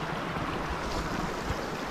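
Stream water at a trail water crossing on the Appalachian Trail: a steady, rushing flow of moderate loudness, continuous and fairly close, with no voices.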